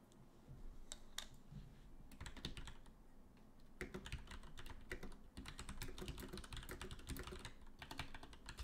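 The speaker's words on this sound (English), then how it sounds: "the tippy-tappy ASMR from the keyboard is important" Rapid computer keyboard typing at an esports tournament stream, clattering keystrokes in dense bursts with brief pauses, close and steady, no voices.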